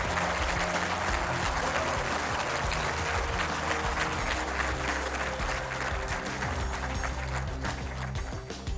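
Steady, dense applause from a large audience at a public event, continuous and loud throughout without a break, easing only slightly at the very end.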